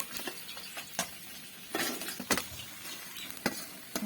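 Pabda fish fry crisply in hot oil in a pan, giving a soft, steady sizzle broken by scattered clinks and scrapes of a utensil turning and lifting the pieces, fairly quiet and with no voices.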